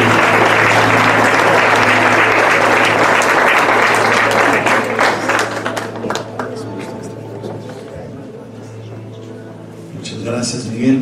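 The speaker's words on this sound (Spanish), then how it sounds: "Por qué no le damos un fuerte aplauso a Dios por la vida del doctor Benjamín" A church audience gives loud, sustained applause that fades gradually toward the end, with some voices mixed in.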